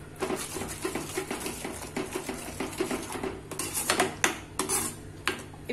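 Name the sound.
stirring masala spices in a cooking pan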